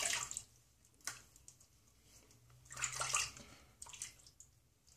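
A safety razor is rinsed under running water: a soft, steady splashing stream that surges and fades in a few bursts, close by and fairly quiet, with no voices.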